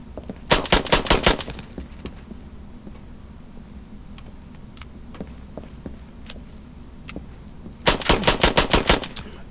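Mech weapons firing at an enemy in the video game Mechwarrior Online: two loud bursts of rapid machine-gun fire at the start and end, with scattered lighter clicks and thuds between them, no voices.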